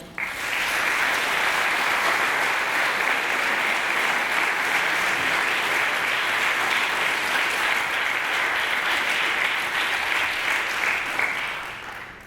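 Steady, sustained applause from a lecture-hall audience welcoming a speaker at a university lecture series, dense and even clapping lasting throughout at close, loud level.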